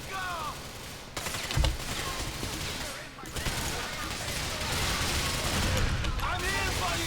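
Gunfire in Grand Theft Auto IV, repeated shots in bursts across a busy game soundscape, loud and close with a dense crackle that keeps going, mixed under other game noise.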